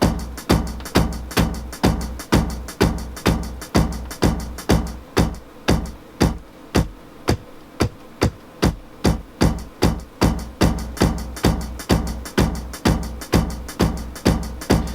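A sample triggered on an MPC2000XL sampler plays as a steady stream of sharp, punchy hits, each one cut off more quickly as its decay shortens, in an even rhythm with no talking.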